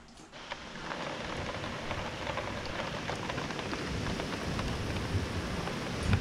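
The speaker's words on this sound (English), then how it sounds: "It's about to rain here." Outdoor rain falling steadily with a broad, hissing wash that slowly grows louder, mixed with low rumbling that suggests distant thunder, no voices.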